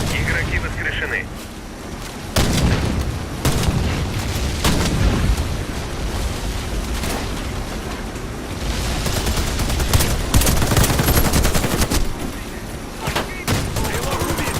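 Gunfire in the video game Warface, with dense crackling bursts of automatic fire and sharp shots, plus whistling bullets, over busy game action, with voices talking underneath for much of the clip.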